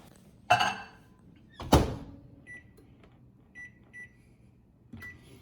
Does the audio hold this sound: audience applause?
no